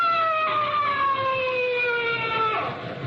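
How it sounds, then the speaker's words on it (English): A police siren sound effect in an old-time radio drama wails loudly and steadily, its rising and falling tone sweeping down over about three seconds before a slight drop at the end. "Hey, that's a police siren."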